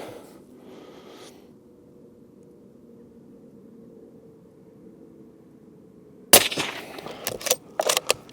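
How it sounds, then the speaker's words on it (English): Several sharp shots from a CZ 600 Trail compact rifle in 300 Blackout firing Hornady 110 grain Whisper rounds, bursting loudly after a long quiet stretch outdoors, followed by a few closely spaced cracks. "110 Whisper rounds, so I'd be interested to see how they shoot"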